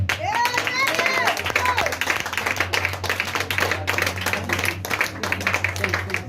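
Scattered hand claps, as from two people, break out during a French-language church sermon. The claps come as sharp, irregular taps under a man's ongoing speech and a low background hum.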